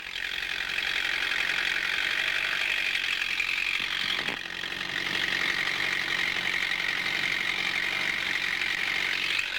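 An aircraft engine runs steadily on a test stand while its carburetor mixture is tuned, a constant close mechanical drone with a brief bump partway through, no speech.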